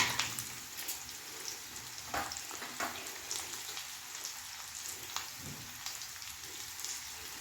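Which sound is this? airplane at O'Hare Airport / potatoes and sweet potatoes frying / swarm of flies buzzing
potatoes and sweet potatoes frying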